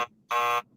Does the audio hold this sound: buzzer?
yes